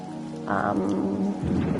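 Rain and thunder from the video game The Gardens Between, played on PS5: a steady wash of rainfall under deep thunder rumbles that swell and shift throughout, with no one speaking.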